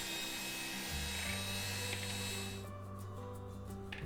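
A rotary tool fitted with a paper cutting disc grinds through a thick plastic poker die, giving a steady close whine with a rough rubbing edge that shifts pitch partway and then eases off near the end.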